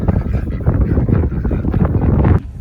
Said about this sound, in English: I wish it wasn't so windy out.